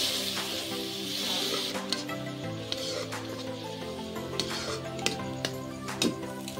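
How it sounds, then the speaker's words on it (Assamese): A spoon scrapes and clinks against a pan while jackfruit curry spices are stirred with a little added water, a soft wet sizzle running beneath irregular metallic taps close by, with no voices. "পানী দি এনেদৰে লৰাই থাকিব, নহ'লে মছলাখিনি লাগি যাব।"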